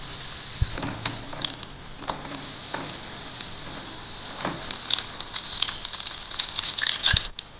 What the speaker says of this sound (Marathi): आता आपण तळून घेऊया